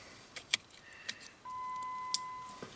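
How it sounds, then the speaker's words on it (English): A steady, clear electronic beep sounds for about a second amid small clicks and rattles of handling a Jeep airbag wiring connector, nearby and fairly quiet. "It beeps."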